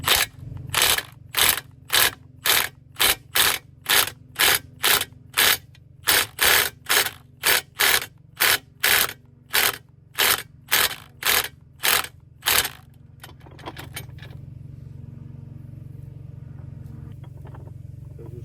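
A socket wrench ratchets on a stuck mower blade bolt in about a dozen quick, evenly spaced bursts of close, loud clicking, then stops, leaving a low background hum.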